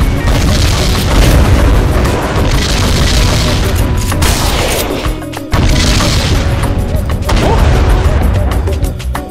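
Enemy gunfire and explosions in the video game Metal Dogs, a loud, continuous barrage of booming blasts and rapid shots with brief dips, dense and close throughout.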